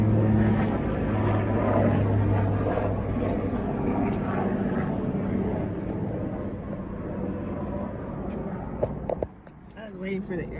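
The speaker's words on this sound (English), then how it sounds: "Waiting for the airplane to pass." An airplane passes over an outdoor balcony garden, a steady broad engine roar that holds loud for several seconds and then fades out, with a person talking briefly near the end.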